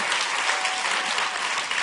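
Dense crowd applause from an audience at a live event, loud and continuous, filling the whole moment without letup.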